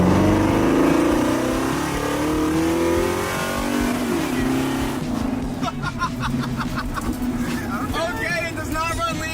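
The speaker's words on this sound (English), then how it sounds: "I think it's time for one more test run and a real big burnout" A refurbished car on a test run doing a big burnout, engine revving loud and close with rising roars and tire noise while people talk over it.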